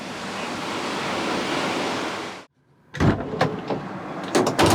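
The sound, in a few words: ocean waves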